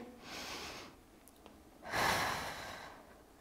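Two audible breaths, a soft inhale then a stronger exhale, taken close by during an intermediate Pilates reformer workout for core and upper body, with no talking.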